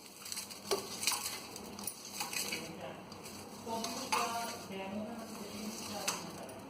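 Nimki dough being mixed with baking powder in a bowl: soft scraping and stirring with scattered light clinks of a utensil, fairly quiet and uneven throughout.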